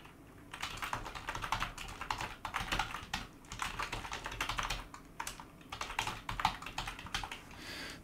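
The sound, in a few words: typing a Linux touch command on a computer keyboard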